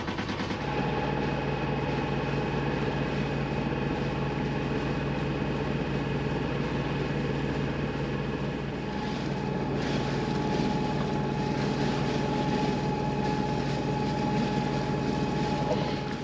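A sailboat motors under engine between Whitsunday islands, giving a steady, droning engine and hull rumble with wind and water noise throughout, no voices.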